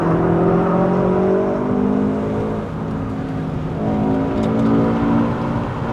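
A 2026 Jetour T2 with an unequal-length exhaust climbs a mountain road toward Genting, Malaysia, with traction control off. Its engine drones loud and close with a steady, rising and falling tone.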